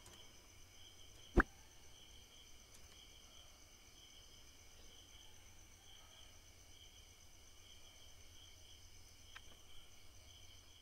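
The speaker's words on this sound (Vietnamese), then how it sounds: "Buổi tối là nghe tiếng dế đồ nó kêu thấy ghê nha." Crickets chirp through a nighttime scene in the video game Keplerth, a thin steady high trill held without a break, with one sharp click near the start and a faint low hum underneath.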